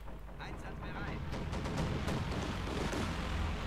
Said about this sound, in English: Another strafe there